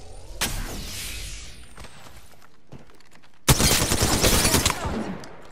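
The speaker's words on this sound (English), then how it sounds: "Listen, I'm getting shot at." Gunfire in Apex Legends: a sharp shot, a sustained burst of automatic fire early on, then a louder close rattle of rapid shots later, with footsteps and game sounds between.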